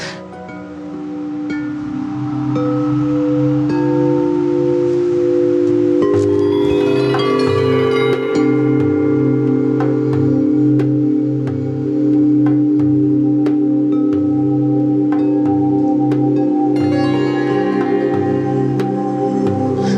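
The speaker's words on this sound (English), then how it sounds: "Gina comes out and she has her sound bowls." Sustained, layered ringing tones of sound bowls humming and overlapping, with occasional bright metallic strikes adding shimmering overtones over the steady drone.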